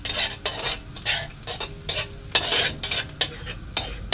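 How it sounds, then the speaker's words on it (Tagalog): Sayote sautéed in a hot frying pan, a spatula stirring and scraping in repeated bursts over a steady near sizzle. "Halo-haluin."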